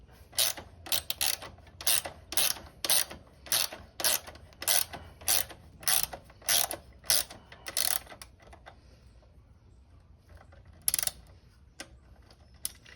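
A ratchet turns the bolt on an Ohlins shock fitted to a Triumph Speed Twin motorcycle, producing a close, regular series of about a dozen sharp clicking bursts that stop, then return briefly with a few more clicks.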